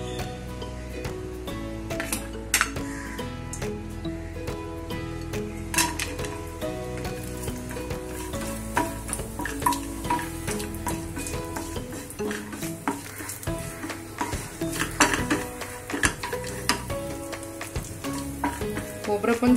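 Dry coconut roasting in a pan while being stirred, with a constant sizzle under repeated scraping and clinks of a spoon against the pan, close and busy.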